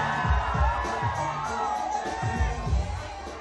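An audience cheers, whoops and screams at a Pride Month concert as a singer performs with power vocals and dancing on stage. The crowd noise is loud and steady, with scattered shouts rising through it.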